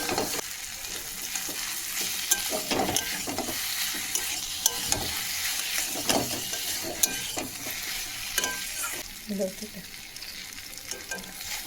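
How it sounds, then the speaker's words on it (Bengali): Taro stolons being stirred together with spices and fried shrimp in a pan, a steady frying sizzle under repeated scraping and clattering stir strokes, close and continuous with no talking. "এখন এগুলোর সাথে কচুর লতিটা খুব ভালোভাবে আমি মিশিয়ে নেব"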